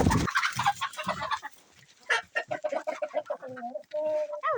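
Cockerels tussling in a rooster scuffle let out bursts of clucks and squawks, loud and close, in choppy irregular flurries that end in a few drawn-out calls.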